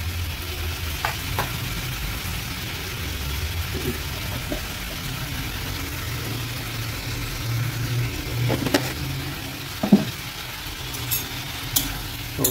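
Chopped tomatoes fry in oil in a pan for a potato, tomato and cucumber curry. A steady sizzle runs under repeated stirring scrapes and a few sharp clacks, with a low rumble in the background.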